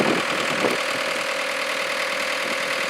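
A Husqvarna 372XP chainsaw engine running at a steady idle, close and moderately loud, holding an even drone with a slight knock and no voices.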